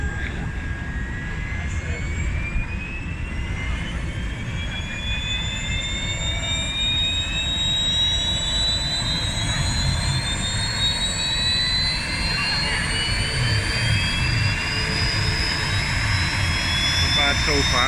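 Gravity jet suit turbines warming up at the Goodwood Festival of Speed, a loud, steady jet roar with rising whining tones that holds for the whole stretch.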